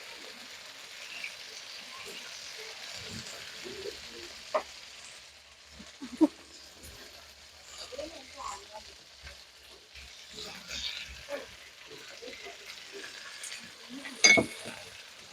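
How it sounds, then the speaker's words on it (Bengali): Hot oil spitting and crackling in a fish curry after fried onions go in, quiet irregular sizzling pops with clinks of a utensil against the pan, no talk. "পেঁয়াজ ভাজাটা দেওয়ার পরে তেল কেমন ছিট করছে,"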